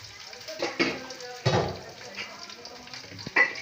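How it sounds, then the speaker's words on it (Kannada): Curry leaves fry in hot oil over a medium flame, a soft, steady sizzle with a few louder crackling bursts and scrapes as they hit the pan, heard up close without talk. "ಮೀಡಿಯಂ ಫ್ಲೇಮ್ ಇಟ್ಟಿದ್ದೀನಿ ಸ್ವಲ್ಪ ಕರಿಬೇವು ಇದ್ದೀನಿ"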